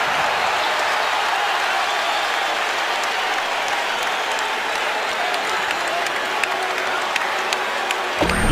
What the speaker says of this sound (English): You know, the crowd's looking for a flagrant.